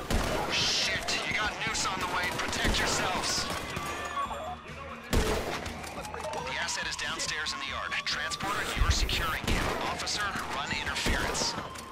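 Dense AK rifle gunfire rattles in the video game GTA 5 during an online heist, with bursts and crashes layered under players' excited speech throughout.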